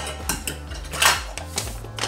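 A utensil clinks and scrapes against a bowl while vital wheat gluten is mixed, giving a series of close, irregular taps and rattles over a low hum.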